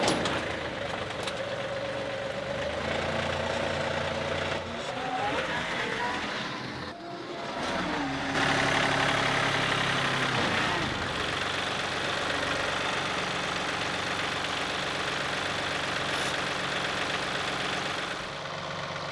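A tractor fitted with a backhoe idles steadily as it backs onto a dump trailer, its engine rumble loud and continuous throughout with a slight dip midway.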